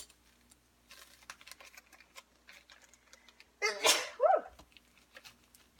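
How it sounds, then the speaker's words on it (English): A single loud sneeze from someone making tali sauce with turmeric powder, sharp and close, standing out after a stretch of quiet kitchen sounds. "I sneeze every time I make this"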